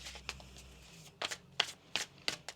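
Tarot cards are shuffled by hand at close range, with a soft riffling run and then several crisp separate snaps, and nobody speaks.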